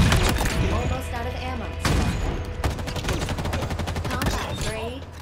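Rapid gunfire in Halo Infinite, with loud close bursts and sharp cracks in quick succession and a brief pause between volleys.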